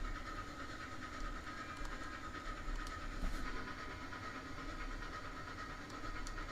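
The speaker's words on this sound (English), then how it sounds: "all I heard was this train" A train running in the Railroads Online video game: a continuous rumbling roar with steady hiss and faint metallic clicks, constant in level throughout, with no talking.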